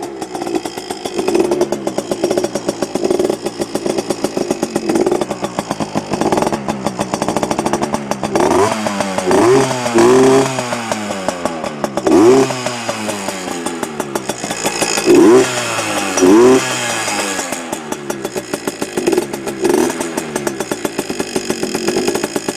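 A heavily modified Yamaha PW80 dirt bike with an FMF exhaust idles with a raspy, buzzy two-stroke tone, blipped repeatedly into short sharp revs that fall back, close and loud throughout.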